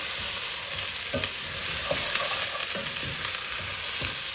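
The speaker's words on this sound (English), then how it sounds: "now we are going to add green beans, chopped green beans." Chopped green beans sizzle in a hot pan for a South Indian stir fry, a continuous bright frying hiss with repeated soft scrapes of stirring, close and steady with no talking.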